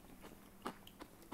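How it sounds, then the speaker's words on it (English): Bites into a caramelized sugar crust on steel cut oatmeal brûlée with cold milk, giving about four short, crisp crunches spaced irregularly, close and fairly quiet, with no talking. "you heard the crunch?"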